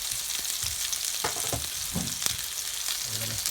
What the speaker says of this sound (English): We're gonna let that sear up